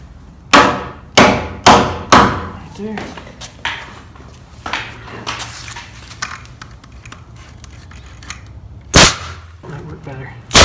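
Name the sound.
hammering wall framing to the line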